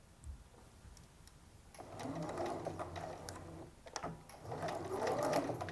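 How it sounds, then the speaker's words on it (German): A sewing machine stitches skirt lining to a hem with a 1 cm seam allowance, running in two steady whirring bursts separated by a brief pause, close and moderately quiet. "Und du nähst nun das Futter an den Rocksaum mit 1 cm Nahtzugabe."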